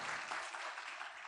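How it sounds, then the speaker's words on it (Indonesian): Audience applause at an Indonesian Tiens business team event, a steady broadband wash of clapping that fills the short moment at even loudness with no talk over it. "Tepuk tangan rame-rame ya."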